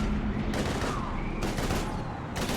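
Gunfire rattles in Mass Effect 3 during a combat mission against Husks, with continuous bursts of automatic shots and a dense crackle of rounds. A voice briefly speaks over the fire.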